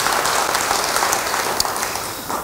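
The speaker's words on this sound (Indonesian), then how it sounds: "Yang setuju beri tepuk tangan bagi dia." Church congregation applauding during a sermon, a thick, even roar of clapping filling the room close and loud, continuous throughout without pause.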